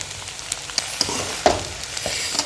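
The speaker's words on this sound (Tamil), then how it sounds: "இப்போ நல்லா கிளறி விட்டுக்கோங்க" Chopped parotta being stirred with shop-bought kurma in a hot pan, a soft sizzle broken by several distinct scraping and clattering stirs over a few seconds.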